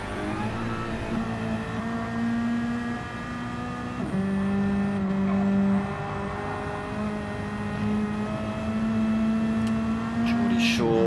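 A small radio-controlled Suzuki race car with a twin big-bore exhaust screams around the track in a league race at Mount Panorama, its loud, high engine whine holding steady and then shifting pitch as the throttle changes.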